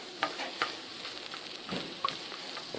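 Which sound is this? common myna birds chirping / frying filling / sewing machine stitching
frying filling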